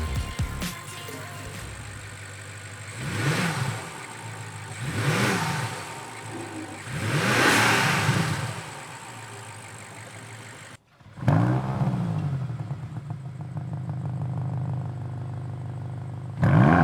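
The 4.4-liter twin-turbo V8 of a BMW XM plug-in hybrid revving in a series of rising and falling surges, loud and close, with a brief cut in sound followed by a steadier engine drone.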